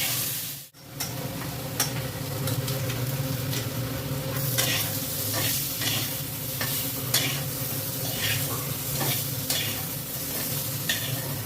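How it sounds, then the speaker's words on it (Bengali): Potatoes fry in a pan with a steady, close sizzle, broken by repeated scraping stirs throughout. "আলুগুলো হালকা করে ভেজে নেওয়া হচ্ছে।"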